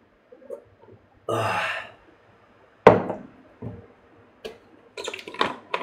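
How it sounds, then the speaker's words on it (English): A person taking a sip of water, with a soft slurp followed by a gulp and scattered small mouth and throat sounds, close and quiet in an otherwise silent room. "Mình uống ngụm nước."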